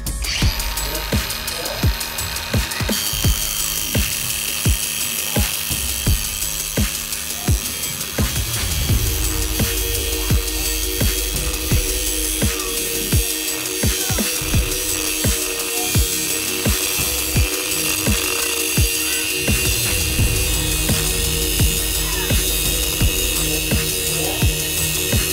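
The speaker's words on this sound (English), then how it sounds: "we're going to use the cut guide for the input shaft and trim it to the correct length" A transmission input shaft being cut to length with a cut guide during a JZ to CD009 adapter install, a loud continuous power tool cutting drone that runs steadily throughout and shifts in pitch, close up with no talking.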